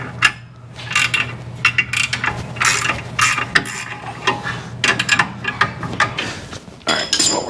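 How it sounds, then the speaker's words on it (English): Torque wrench ratcheting down U-bolts on a 2018 Chevrolet Colorado 2-inch lift kit: repeated close metallic clicking bursts in an uneven rhythm, with brief pauses between pulls and no speech. "we're gonna torque the U-bolts down"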